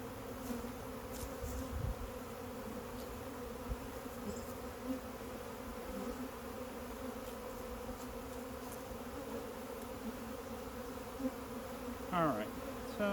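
Honey bees buzz steadily around an outdoor hive box during swarm work, a dense continuous drone close by with no talk over it and a faint brief rustle near the end.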